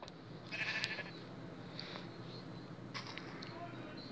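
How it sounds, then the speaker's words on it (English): A white sheep bleats in a video game, a few faint calls rising over a steady low background hum, with a quieter second call near the end. "And for this stupid white sheep to not enter."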